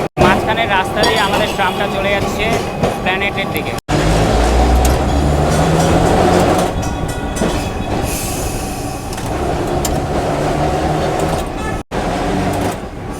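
A Kolkata tram rolls along a city street with loud rumbling and clattering wheels, squealing metal tones and traffic around it, with a few sharp breaks in the sound and people talking underneath.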